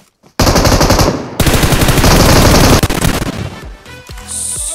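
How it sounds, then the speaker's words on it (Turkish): Sustained automatic bursts from an M249 light machine gun in PUBG Mobile, loud and close, rattling continuously for several seconds before a brief break, then trailing off into scattered shots and quieter game sounds. "Adam M249'da tarıyor, 37 mermi kaldı."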